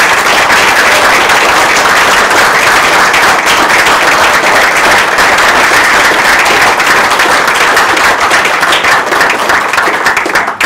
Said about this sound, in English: our panel deserve a great round of applause